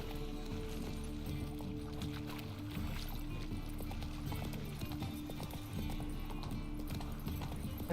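Roach, the horse in The Witcher 3, trots with steady clip-clopping hooves over a dense bed of game music and ambience, fairly loud and continuous throughout.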